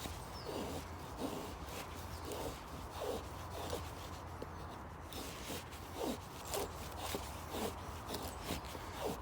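Gransfors Bruks wildlife hatchet shaving feather sticks from wood, a quiet series of short scraping strokes repeating roughly every half second, close and faint with no talking.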